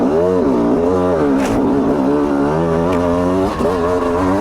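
An EN 300 dirt bike engine buzzes loud and close on desert trails, its pitch rising and falling as the rider works the throttle.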